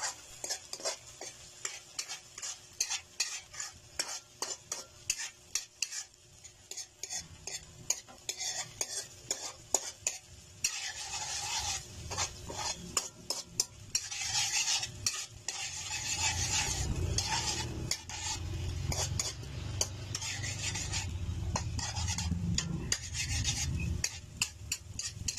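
Beaten eggs cook with sautéed sardines in a pan, giving a steady scraping stir and soft rubbing of a utensil against the pan over a low sizzle that thickens and grows louder in the second half, with no talking.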